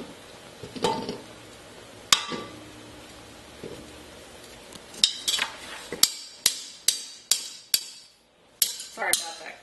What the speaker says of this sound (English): Sorry about that clanking, but hey, got to get it off of here.